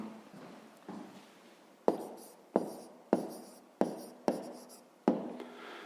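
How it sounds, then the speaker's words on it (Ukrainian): A pen writes an answer by hand on paper, giving a close, quiet series of about seven scratchy strokes at a steady pace, with no talking. "зараз записуємо відповідь. Пишемо відповідь"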